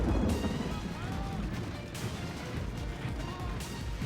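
Battle fire from troops in the Lord of the Rings strategy game Third Age Reforged, a dense continuous rumble of ranged volleys with scattered cracks and crashes, steady and distant-sounding, with a voice talking over it.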